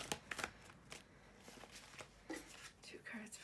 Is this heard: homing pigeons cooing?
no